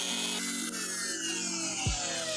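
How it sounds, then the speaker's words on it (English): A Dremel rotary tool rounds the edges of a Black Panther spear pommel, making a steady, close, high whine with grinding texture throughout. "break the Dremel back out and just kind of round out these edges here"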